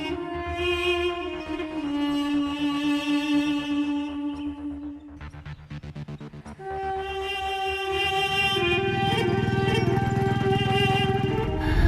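A motorcycle engine drones steadily through a scene of an action movie, its tone shifting as it revs, mixed with a musical score that briefly drops away before the bike noise swells again.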